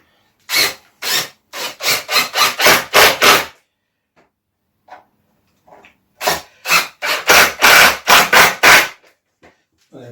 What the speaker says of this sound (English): These screws are actually self-cutters as well.